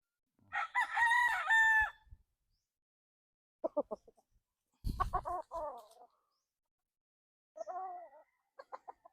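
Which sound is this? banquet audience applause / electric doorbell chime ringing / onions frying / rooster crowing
rooster crowing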